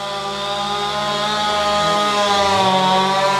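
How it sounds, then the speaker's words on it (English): Three chainsaws run at once while cutting down and bucking trees into firewood in a garden, a loud steady overlapping drone with the engines' pitch rising and dipping, with no talk. "That background noise, folks, is 3 chainsaws running."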